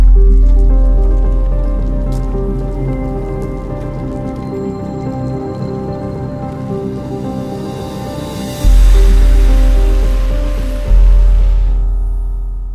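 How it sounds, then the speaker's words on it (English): Heavy rain pours down on a wet day in Kabul, a steady loud wash close by with thick patters and drips, swelling suddenly louder near the end. "Raining even harder than it was yesterday."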